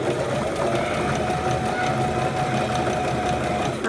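A Brother GS1700 sewing machine stitches a buttonhole in a fast, steady mechanical whir that runs unbroken at close range and stops abruptly at the end.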